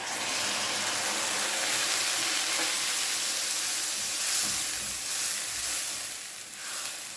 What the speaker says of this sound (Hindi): तो बस अब इसको हम अच्छा सा फ्राई होने देते हैं 7 से 8 मिनट